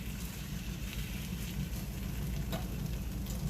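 Eggs frying in a Lodge cast iron cornstick pan, a quiet steady sizzle and crackle of fat with faint scattered pops throughout.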